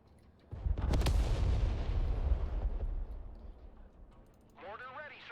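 Artillery and mortar fire in the video game Broken Arrow: a heavy boom breaks out near the start, followed by a long rumbling roll that fades away, and a voice speaks over the tail end.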